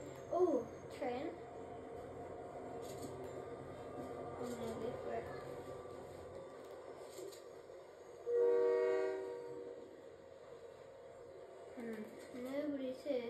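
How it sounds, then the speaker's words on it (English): A train rolls past in a video game and sounds its horn in one loud, sustained blast midway, while a player talks over the rumble before and after. "Oh, train."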